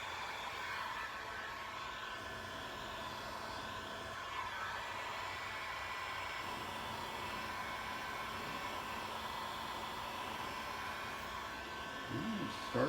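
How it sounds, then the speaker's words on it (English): A heat gun shrinks heat-shrink tubing during an electric fan install on a 1966 Chevy truck, giving off a steady, close whooshing blower roar that runs on evenly for the whole stretch. "So it just takes a few passes with the heat gun."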